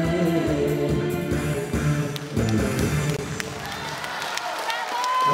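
A studio audience applauds after a love song on a television show. The clapping is dense and sustained, starts strong, dips briefly, then continues under lingering music and tails off toward the end.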